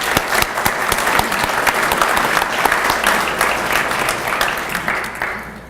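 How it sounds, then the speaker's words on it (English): An audience applauds the president at a foundation donors reception, a dense, steady clatter of many hands clapping together for several seconds before it begins to taper off at the end. "Let's give our president a round of applause,"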